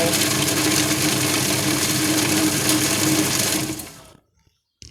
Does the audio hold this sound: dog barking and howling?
no